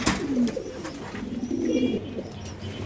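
A velvet shield pigeon at a pigeon farm coos in low, throaty rolling phrases, close and clear, with faint background noise and no talking.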